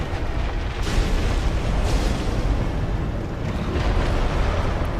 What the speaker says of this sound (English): it's just the explosions that he centers in front of him you gotta worry about